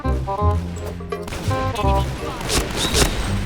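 Rapid bursts of gunfire in a shooting video game, several sharp shots and a crashing impact mixed with harmonic game music, fairly loud and close.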